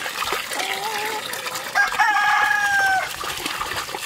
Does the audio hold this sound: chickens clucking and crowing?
yes